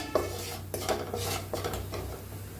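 A spoon scrapes and clinks against a pan while turmeric and red chili powder are stirred into a little oil with seeds, in uneven close strokes over a faint sizzle.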